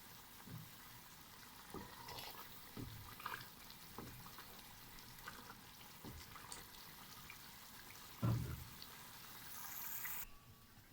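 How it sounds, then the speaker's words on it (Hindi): Water added to a pan of kofta frying in a home kitchen, with a low continuous sizzle and scattered soft pops and splashes throughout, one louder splash near the end. "2 टेबल स्पून हम इसके अंदर पानी को शामिल करते जाएंगे"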